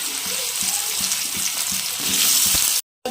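Amla pieces dropped into hot oil with panch phoron for amla pickle crackle and sputter loudly, a close, dense frying hiss with light rhythmic stirring knocks underneath, cut off abruptly near the end.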